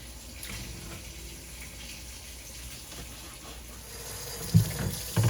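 Steady tap water pours and splashes as chicken gizzards are rinsed under it in a sink, a continuous close gush with a few louder knocks near the end, no talking.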